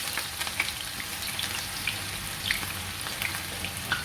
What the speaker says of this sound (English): the oil is hot, so it's time to get the garden egg sauce ready